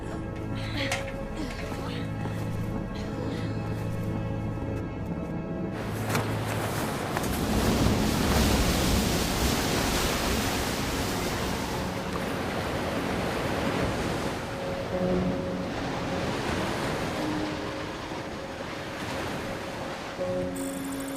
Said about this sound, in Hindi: समंदर शांत हो गया है सर।